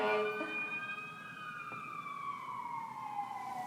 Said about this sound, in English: We'll just let the sirens go by here.